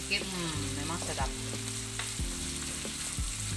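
Ginger and other ingredients fry in a pan for sambal goreng with black pepper, a continuous bright sizzle broken by scraping stirs of the spatula, close and alone without talk.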